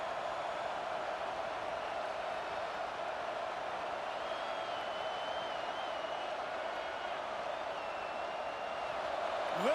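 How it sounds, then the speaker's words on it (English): Stadium crowd at a Georgia Tech football game roaring to help their defense: a steady, dense wash of distant cheering and noise that holds at an even level throughout, swelling slightly at the very end. "Listen to this crowd just shaking the girders of this place, trying to help their defense."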